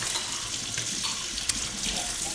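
Hot tap water runs steadily into a kitchen sink while dishes are washed, a continuous close hiss and splash with a brief clatter partway through.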